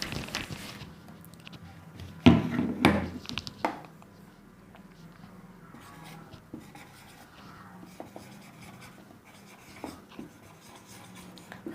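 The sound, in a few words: writing a sentence by hand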